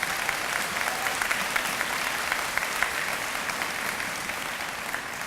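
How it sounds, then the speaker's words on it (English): An audience at a dedication ceremony gives steady, dense applause, a continuous wash of many hands clapping at even loudness throughout. "I know you applauded"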